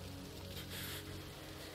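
Steady rain in the video game Heavy Rain on PlayStation 5, a soft, continuous hiss of falling drops on surfaces, faint and unbroken throughout.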